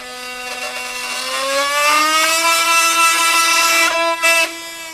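A Milwaukee M18 FUEL oscillating multi-tool cutting through pressure-treated 2x lumber, a loud, close, steady buzzing whine that rises slightly in pitch as it bites in.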